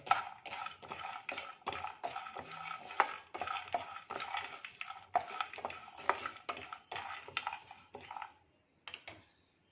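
Cumin seeds roasting in a pan as a spoon stirs them, with repeated close metallic scrapes and clinks in an irregular rhythm, then a brief pause and a few last stirs.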